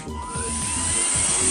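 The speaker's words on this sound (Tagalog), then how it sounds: "Ayan, lumalabas yung hangin dito." A Pery Smith Extreme XS1 cordless handheld vacuum cleaner runs with a steady high-pitched whine and airy motor hiss, close up and continuous, with faint low handling bumps underneath.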